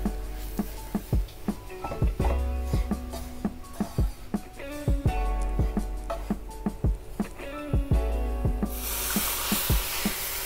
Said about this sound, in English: So now we are adding milk for that.